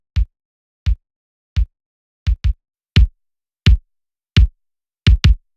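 A punchy kick drum, processed through a guitar effect plugin, thumps alone about a dozen times in a steady beat, with a couple of quick doubled hits, each dry and short.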